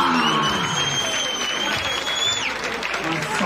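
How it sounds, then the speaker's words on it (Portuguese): Crowd applause at a rap battle, a dense loud wash of clapping and cheering heard under talking and a sustained whistle-like tone. "Uma salva de palmas!"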